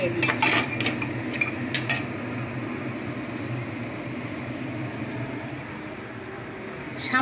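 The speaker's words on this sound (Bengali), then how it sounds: "এবার মশলাটাকে একটু নাড়িয়ে দিচ্ছি" A metal utensil scrapes and clinks against a pan while a spice mixture is stirred for a drumstick flower curry, with a burst of sharp taps at the start, then a low steady rumbling scrape, and a few more clicks near the end.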